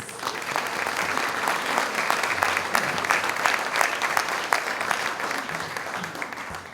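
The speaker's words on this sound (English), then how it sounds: "Please give yourselves another round of applause" Sustained applause from an awards-luncheon audience, a steady dense patter of many hands clapping at even loudness throughout, close and full with no voices on top.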